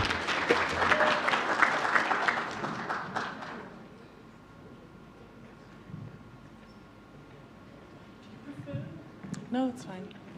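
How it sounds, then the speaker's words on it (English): Brisk audience clapping at a launch event rings out for a few seconds, then stops abruptly, leaving a quiet room with faint rustles and a few later spoken words. "So please just clap for her."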